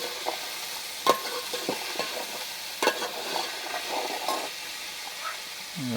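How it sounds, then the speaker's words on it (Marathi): Garlic tempering hisses in hot oil for a jackfruit curry cooked over a village wood-fired stove, a steady quiet sizzle broken by several sharp spatter pops and light scraping, with no voices. "तेल टाकल्यान पहिला, त्याच्यानंतर लसूण लसणीची फोडणी."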